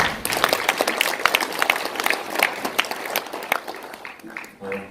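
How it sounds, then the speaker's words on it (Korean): An audience at a press center panel discussion breaks into sustained applause to welcome a speaker, dense clapping filling most of the stretch before tapering off, with a voice surfacing near the end. "우리 김 대표 박수로 활용해 주십니다"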